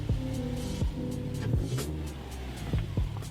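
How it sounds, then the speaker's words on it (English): A Subaru car rolling out, its engine a steady low rumble with several quick rising and falling pitch sweeps as it moves off, fairly close and with no talk. "Subaru rolls out."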